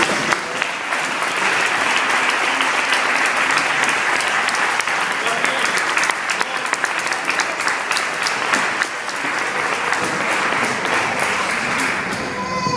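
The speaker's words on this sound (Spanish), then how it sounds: "vamos a darles un aplauso porque sí que están muy sencillos." An audience at a tribute event gives sustained, loud applause, dense clapping that continues evenly throughout with a slight dip partway before carrying on.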